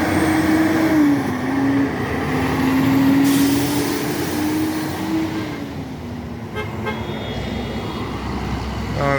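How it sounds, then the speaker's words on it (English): A heavy truck rolling along a Jamaican highway: loud continuous engine and road rumble, a sustained horn-like tone that bends in pitch, and a hiss of air brakes near the end, all close to the microphone with no talking. "the truck sound quieter than usual"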